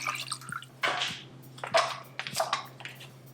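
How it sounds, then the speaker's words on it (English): Water pours into an Instant Pot as it is filled to the max line for chicken pho, with splashing bursts and sloshing over a low steady hum, close up. "we're going to fill the rest of the pot with water"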